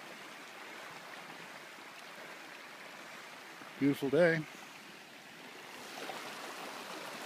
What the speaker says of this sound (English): This is the Van Boxel Creek. That's pretty good flow.